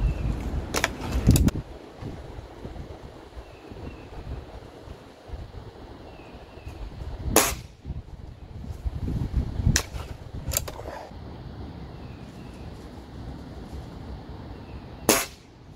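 A Stoeger S4000-E spring air rifle fired at a target 18 yards away: sharp, isolated shots, a couple early and several spaced seconds apart, heard against outdoor wind noise.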